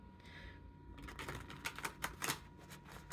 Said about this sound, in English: so I have to shuffle them differently than I usually would